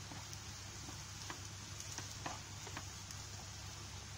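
Spice powder being stirred and fried in a pan while cooking banana-leaf fish fry, a faint, steady sizzle with soft scraping stir clicks scattered through, quiet and close with no talking.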